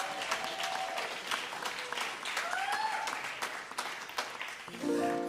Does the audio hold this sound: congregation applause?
yes